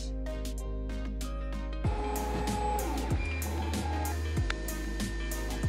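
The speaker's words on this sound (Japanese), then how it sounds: "このように 3D プリンターが自分自身の部品をプリントしています。" A JG Aurora A3S 3D printer prints its own parts in black PLA, giving off steady motor whine and tonal stepper sweeps that shift pitch every second or so, close and alone.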